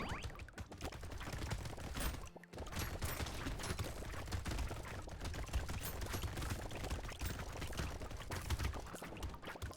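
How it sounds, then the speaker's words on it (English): A chain gun in Brotato fires rapidly and steadily, a quiet dense rattle of shots running the whole time among busy game effects, with one brief dip partway through. "the chain gun hits them and instantly charms them"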